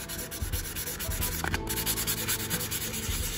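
Motorcycle brake pad rubbed by hand on 800-grit sandpaper, giving repeated close, rhythmic scratchy strokes that hold steady throughout.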